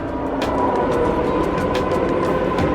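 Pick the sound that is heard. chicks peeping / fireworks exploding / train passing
train passing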